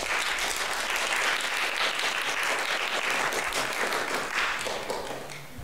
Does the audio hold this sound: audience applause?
yes